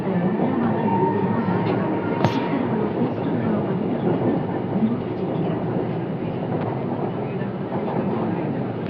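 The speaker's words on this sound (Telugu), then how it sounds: "మెట్రోలో ట్రావెల్ చేస్తున్నాం." Steady rumble and rail clatter inside a moving Kochi metro train in Kerala, a continuous near drone with a sharp click partway through.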